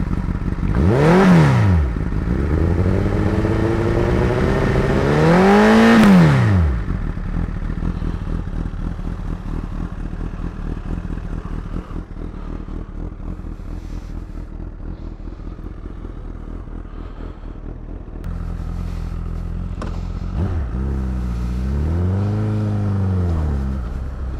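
A 2010 Honda Fireblade CBR 1000cc sport motorcycle revs hard twice through its exhaust, rising and falling sharply, then idles with a rattling throb before another swelling rev near the end.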